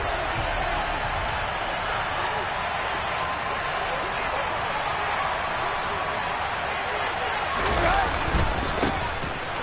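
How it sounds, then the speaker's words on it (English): A home crowd at a football game roars continuously after a bad return, a broad wash of stadium noise that swells near the end, with a commentator talking over it. "now the home team crowd, they are fired up"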